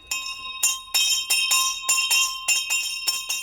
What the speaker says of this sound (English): The bell is also used to end the lesson